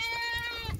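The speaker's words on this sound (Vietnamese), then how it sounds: "Có con dê đực to này, dai to gớm." A large male goat bleats close by on a farm, a single loud wavering cry with nasal harmonics.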